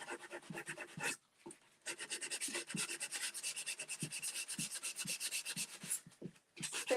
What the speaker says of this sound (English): Sanding sponge from Dixiebelle. It's got about a 220 grit.